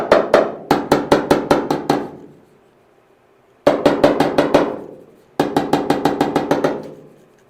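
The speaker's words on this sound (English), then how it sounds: "You saw me hammer that." Rapid hammer blows knock a dent out of car bodywork, landing in three quick bursts of ringing metallic strikes, six to nine in each run, with short pauses between them and no voices.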